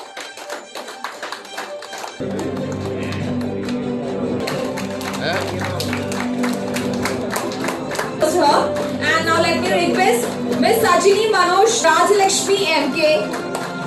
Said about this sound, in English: Huge, huge round of applause.